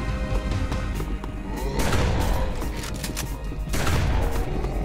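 Shotgun blasts and other gunfire in the zombie game All Zombies Must Die, loud and dense throughout with repeated heavy bursts and crashes, partly over a voice.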